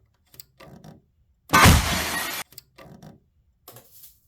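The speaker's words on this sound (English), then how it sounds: "what does the degauss sound like on this thing?" A Sony PVM-4300, a very large CRT monitor, degaussing: a sudden loud buzzing thunk lasting about a second, framed by faint clicks and small mechanical sounds before and after.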